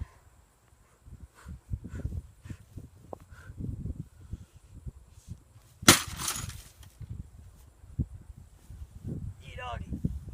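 A sledgehammer smashes into a printer with one loud, close crash of breaking plastic and glass in the middle, amid scattered knocks and rustling debris, with someone talking in between.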